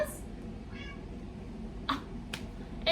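A house cat meows back several times in short, separate cries, fairly close over a low background hum, with no talking.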